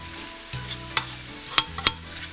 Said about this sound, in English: So now you're gonna let these saute up, and you're gonna mix it all in.